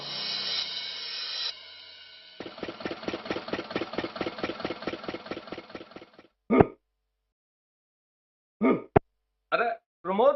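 A tractor engine runs with a steady, rapid chugging pulse for several seconds, close and fairly loud, then cuts out, followed by short bursts of voices.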